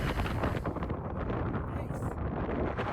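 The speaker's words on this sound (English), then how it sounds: "the wind could be fierce in Moab sometime" Strong wind roars across the microphone in Moab, loud steady buffeting rumble with gusty surges throughout.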